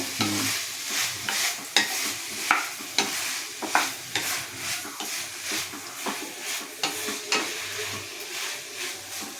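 Ash gourd curry with coconut paste sautés in a pan, a steady soft sizzle broken by a regular series of scraping spoon strokes, close and moderately loud with no voices.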